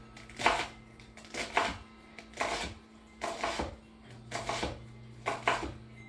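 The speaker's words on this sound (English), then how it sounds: "So I am just dicing up my onion" Knife dicing an onion on a cutting board, heard as six evenly spaced bursts of sharp chopping taps, close and fairly quiet, with no voices.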